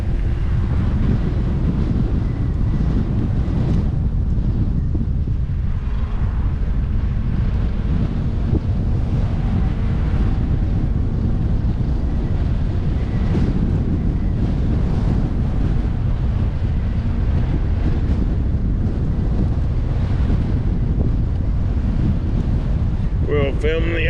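Heavy, constant wind buffeting the microphone while cycling on Summerland Key in the Florida Keys, a loud unbroken roar that swamps everything else for the whole stretch.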